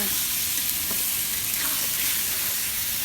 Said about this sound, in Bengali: আর এইদিকে মাংসটা কষা মাছটাও কষা কষা হয়ে নিচ্ছে